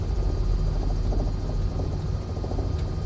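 A Robinson R66 helicopter in Microsoft Flight Simulator 2024 drones steadily with a low, continuous rotor and turbine rumble, loud and close, with no voices.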